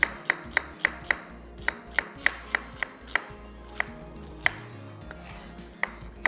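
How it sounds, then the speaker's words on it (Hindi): An onion being finely sliced with a knife on a board: about fifteen crisp, evenly spaced chops at a steady, brisk pace, close and clear, with no speech. "प्याज को हमने कटिंग कर लेना है स्लाइस"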